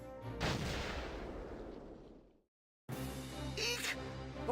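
A sudden heavy boom from the Valkyria Chronicles Remastered video game, with a long rumbling decay that fades to silence before game sound resumes, and no speech.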